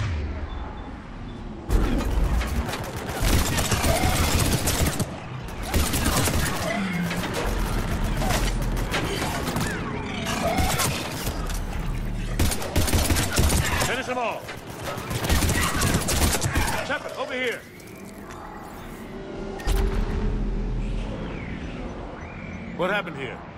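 Gunfire in a Mass Effect 3 firefight: repeated loud bursts of shots and impacts across most of the stretch, mixed with voices talking, easing toward the end.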